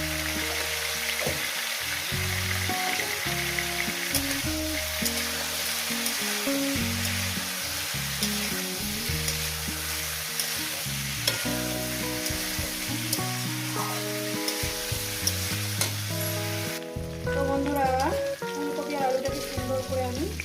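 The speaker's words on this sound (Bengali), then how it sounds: "আলু যত সুন্দর করে ভেজে নেবেন তত সুন্দর খেতে হবে" Potatoes frying with a little turmeric in a pan for a Bengali cauliflower and katla fish curry give a steady, loud sizzle through the whole stretch, with occasional stirring knocks and no talk.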